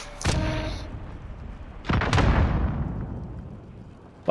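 Two loud rocket explosions in Call of Duty: Modern Warfare, each a sharp blast with a long rumbling decay, the second following about a second and a half after the first.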